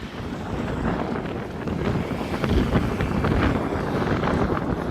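Steady, loud wind buffeting the microphone outdoors, a continuous roaring rumble with no voices.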